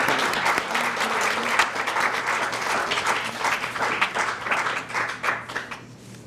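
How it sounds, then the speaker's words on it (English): An audience at a scholarship reception applauds warmly, with dense overlapping hand claps at a steady level that thin out and fade toward the end. "Can we give Riley another hand clap?"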